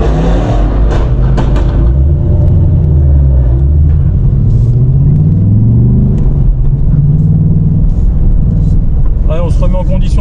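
A 2024 Ford Mustang Dark Horse pulls away on a race circuit, its loud, steady engine drone rising and falling in pitch, heard from inside the car with a voice talking over it.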